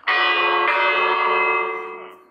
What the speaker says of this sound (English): Okay, I ring the bell.